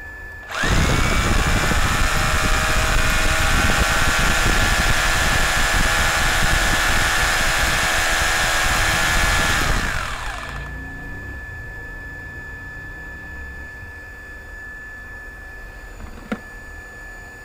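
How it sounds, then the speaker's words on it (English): An electric drill powered by an off-grid rooftop solar system starts abruptly and runs at a loud, steady whine for about ten seconds, then winds down, leaving a faint hum and a single click. "what happens if I switch on the drilling machine"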